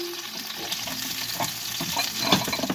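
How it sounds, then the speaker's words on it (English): Meat sears in a pan over low heat in a cabin kitchen, a steady close sizzle with scraping stir strokes and occasional louder pops, no talk. "I'm going to let that get started searing."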